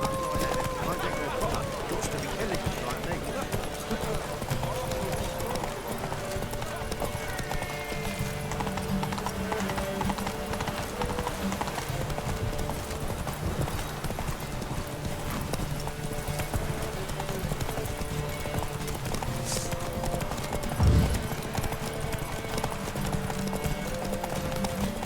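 Horse hooves clip-clop at a steady gallop during a race in The Witcher 3, with occasional whinnies, set against game music and effects while someone talks over them.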